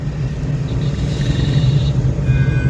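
A car's engine rumbles steadily and rises slightly as a learner driver presses the accelerator, close and continuous with no talk over it.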